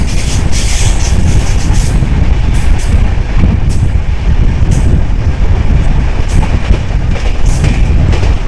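Kanchan Kanya Express running on rails through hilly Dooars country, a loud continuous rumble and rattle of wheels with clattering rail joints and occasional squeals, heard close from aboard.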